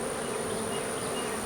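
Honey bees buzz densely around a hive frame of fresh comb, a steady, close swarm drone with no pauses or voices throughout.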